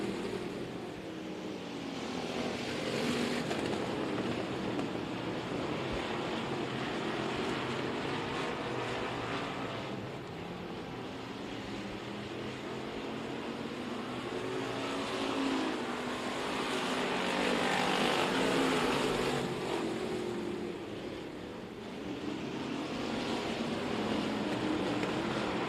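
Race cars circling the oval at Kennedale Speedway Park during a points-night race, a steady roar of engines rising and fading as the pack passes, sustained and fairly loud throughout.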